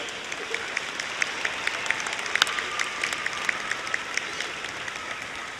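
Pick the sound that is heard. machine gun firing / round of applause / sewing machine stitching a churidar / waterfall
round of applause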